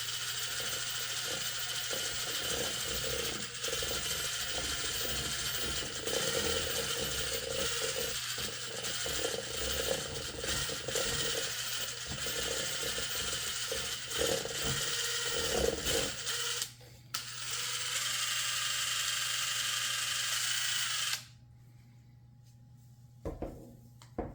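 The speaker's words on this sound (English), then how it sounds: "I'm going to mix it in with this mixer." An electric mixer whirs and rattles continuously as it blends white pigment into resin for a table top, with brief pauses, then stops near the end.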